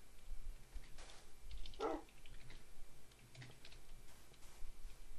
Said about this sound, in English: I can hear him barking, so.